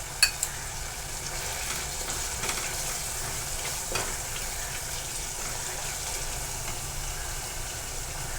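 Spices and a teaspoon of Kashmiri chili powder fry in hot oil for a mixed vegetable dish, a steady, even sizzle with a couple of sharp clicks near the start.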